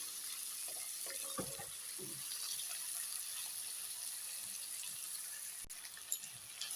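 Tomatoes with a pinch of salt frying in a pan, a faint, steady sizzle with a few soft clinks and stirring sounds, no talking.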